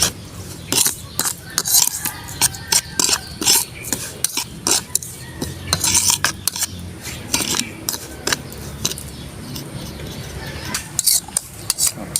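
Garlic and iodized salt being stirred together in a bowl, busy clattering scrapes of a utensil against the dish in quick irregular bursts, close and fairly loud with no talking, for a grilled tambakol fish marinade.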